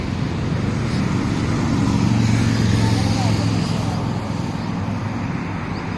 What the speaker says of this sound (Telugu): ఇప్పుడిప్పుడే ట్రాఫిక్ స్టార్ట్ అవుతుంది చిన్న చిన్నగా.